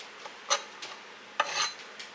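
A knife cuts leftover ham into bite-sized pieces on a board, giving a few separate close scraping strokes with quiet gaps between them.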